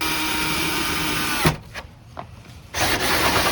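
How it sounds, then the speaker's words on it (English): A 2-inch bimetal hole saw on a drill cuts a hole through a camper wall from outside, a loud steady grinding whir that stops for about a second partway through, then starts up again. "line up the 2-inch hole saw blade with your pilot hole and carefully drill the hole"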